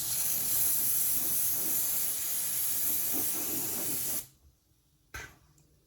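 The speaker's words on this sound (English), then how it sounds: "Spraying up your nose is weird." A nasal spray bottle hisses in a long continuous spray for about four seconds, stops abruptly, then gives one short extra puff, close and fairly loud.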